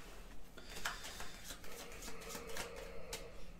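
Soft riffling and flicking of playing cards being shuffled, quiet and close, with small papery bursts over a faint background hum.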